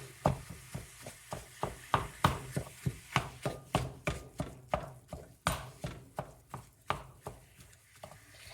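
A Pampered Chef meat chopper breaking up ground meat in a pan, about two dozen regular, fairly close chopping thuds against the pan over a faint sizzle.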